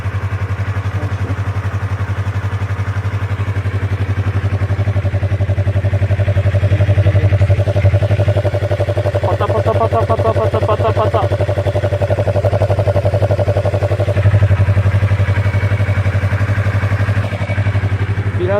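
A Yamaha R25 motorcycle engine idles steadily with a deep, even hum and a light mechanical clatter, close and loud throughout. Someone talks over it.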